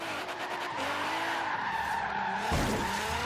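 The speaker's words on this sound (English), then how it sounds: "Let's see if we can drift this roundabout." A Nissan GT-R drifts around a roundabout in Forza Horizon 3, its tires skidding in a sustained screech over engine noise for a few seconds, fairly close.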